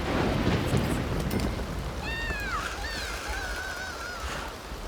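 A rainstorm with thunder in The Sims 2: steady hissing rain and low rumbling thunder run throughout, and a brief whining, sliding vocal-like sound rises over the storm midway.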